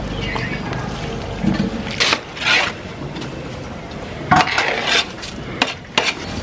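Water poured into a large pot of mutton biryani rice being cooked for a wedding, irregular splashing and scraping bursts with clattering pot sounds, fairly close and loud.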